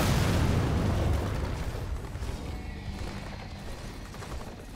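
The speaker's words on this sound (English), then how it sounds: "I'm requesting an airstrike." Airstrike explosions in Gears of War 4 erupt in a loud, rolling blast that opens strongly and then decays into a long rumbling tail of debris and fire.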